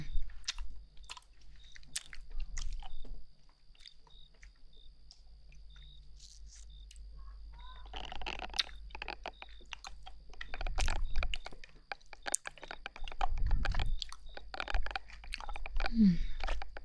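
Watermelon Jolly Rancher hard candy is chewed and crunched close up in a quiet setting, with sparse crisp crunches and clicky bites separated by pauses.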